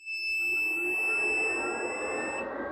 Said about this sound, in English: So you get this beep from the inverter.